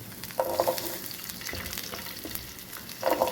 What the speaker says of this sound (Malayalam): ചെറിയ ഉള്ളിയെല്ലാം ഇട്ടുകൊണ്ടിരിക്കുകയാണ് ഇനി ഇത് നന്നായിട്ട് നമുക്കൊന്ന് വഴറ്റിയെടുക്കാം